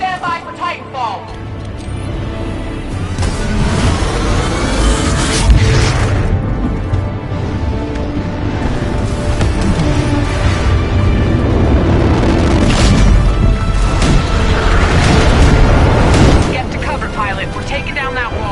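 Titanfall drop in Titanfall 2 with heavy booms and explosions rolling through a dense, loud battle soundscape, while voices talk throughout.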